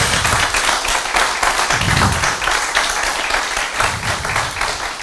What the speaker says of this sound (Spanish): les pido por favor que le den un fuerte aplauso a Vicente